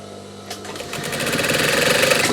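A sewing machine stitches the sleeve opening of a denim jacket along the seam allowance, its steady whirring motor starting after a brief pause and building to a loud, continuous drone with no talking.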